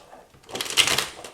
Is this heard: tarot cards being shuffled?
yes